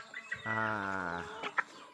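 A 2.5 kg, six-month-old Basilan rooster raised in a backyard gives one sustained, harmonic crow-like cluck, close and clear, followed by a couple of short sharp clucks, with no talking over it.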